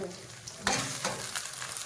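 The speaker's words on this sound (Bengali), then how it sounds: "আদা ভালো করে ভেজে নেবো রসুনের কাঁচা গন্ধটা চলে যাওয়া পর্যন্ত ভেজে নেবো" Ginger, garlic and onion fry in a pan with a continuous close sizzle, broken by a couple of louder scraping stirs in a brief burst.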